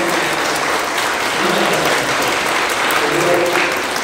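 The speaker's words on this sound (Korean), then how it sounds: "한번 박수 한번 다시 한번." A church congregation claps together during an Easter Sunday worship service, a dense, steady wash of applause lasting the whole stretch with no break.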